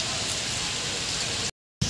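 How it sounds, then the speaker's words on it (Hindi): Heavy overnight rain keeps falling at the MM Fun City waterpark in Raipur, Chhattisgarh: a dense, steady, loud hiss that cuts out briefly near the end. "आप देख सकते हैं बारिश तो कम होने का नाम ही नहीं रहा है, पूरे रात भर बारिश हुआ है।"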